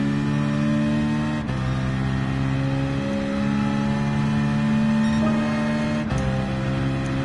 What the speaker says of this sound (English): You can hear the turbo whine in the car.